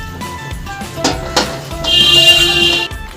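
Hot water streams into a pot of mutton curry, a brief bright pouring gush after a few clanks and stirs, then quiet.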